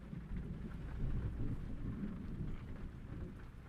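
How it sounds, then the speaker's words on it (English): In a truck simulator video game, a heavy downpour hisses steadily while thunder rumbles low and continuous beneath it, with no talking over the storm. "We got a freaking downpour here with a thunderstorm."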